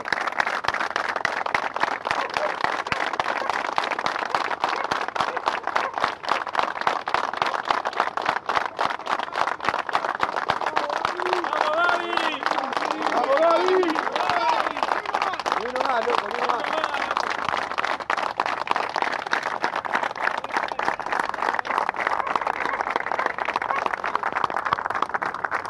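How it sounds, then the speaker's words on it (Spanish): Workers at a bus company in Ezeiza clap together for a driver who died, a sustained, rhythmic burst of applause heard outdoors, with voices rising briefly in the middle under the clapping. "vamos a dar un fuerte aplauso por el compañero que falleció"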